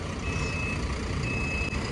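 A 15-metre luxury sleeper coach reverses under a steady low engine rumble, sounding two long, evenly spaced high warning beeps close by.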